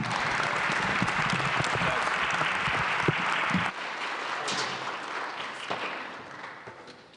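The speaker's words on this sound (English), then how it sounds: "Can we give a big round of applause for Matt and Callahan?" Applause from a breakfast event audience, sustained clapping that drops a notch partway through and then tapers off gradually, with some voices mixed in.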